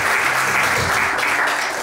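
Wedding guests clap together in a dense, steady round of applause that fills the room for a couple of seconds, then begins to taper off.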